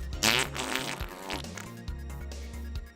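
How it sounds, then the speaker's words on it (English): A fart noise sound effect plays close and loud, a long buzzy, flapping blurt lasting about three seconds with uneven pulses and no voices over it. "we're starting off good with a fart noise"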